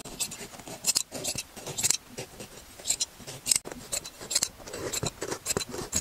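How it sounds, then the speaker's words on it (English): Scissors cutting upholstery fabric flush along a cushion edge, close and quiet crisp snips and rustles in irregular bursts, some separated by short pauses. "run our scissors right along the edge"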